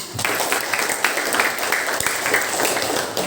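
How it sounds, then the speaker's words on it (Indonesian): Students clapping in a classroom, a brief round of applause with individual claps audible in a loose, uneven rhythm, moderately loud and near. "Berikan tepuk tangan untuk Jihan."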